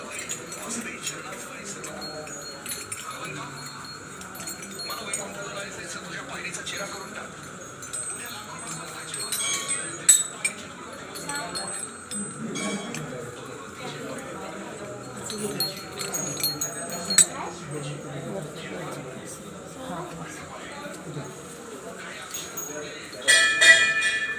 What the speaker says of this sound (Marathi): तुम्ही बघू शकता किती आवाज येतो आहे घंटीचा